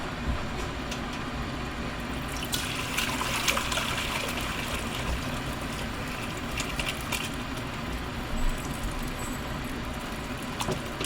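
Bone broth pours into a crock pot in a steady, continuous liquid trickle and splash lasting several seconds, close and moderately loud, with no talking.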